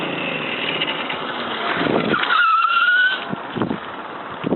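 A Minsk moped rides past, its small engine buzzing steadily at close range, swelling louder in the middle and then easing off as it moves away.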